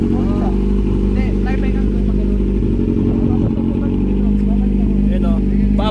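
A CFMOTO 650NK motorcycle engine running loud and close through its exhaust silencer, a steady low rumble with small rises in revs, while people talk over it throughout.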